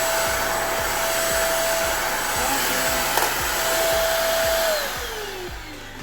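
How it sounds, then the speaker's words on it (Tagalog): A Deerma DX810 handheld vacuum cleaner running over carpet, a loud steady motor whine with a rhythmic low thumping as it is pushed back and forth, then the pitch drops as it winds down near the end. "Try natin sa carpet."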